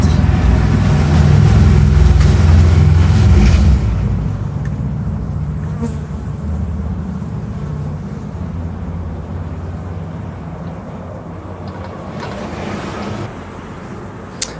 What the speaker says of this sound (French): Alors voici sur cette ruche où j'ai réuni deux essaims.